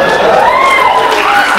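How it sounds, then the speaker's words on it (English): A live comedy roast-battle grand final crowd in Australia erupts in loud, sustained applause and cheering, with whoops rising above dense clapping the whole time. "Can we have a round of applause for Kirsty's butt,"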